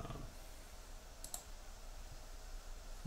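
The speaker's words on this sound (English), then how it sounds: "delete points by right-clicking on them" Two quick computer mouse clicks sound close together, faint and crisp against a low background hum, with no talking.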